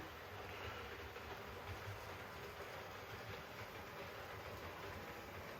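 A steady, continuous rumble of a model train rolling along its track, even and unbroken, with a faint rhythmic clatter and no voices.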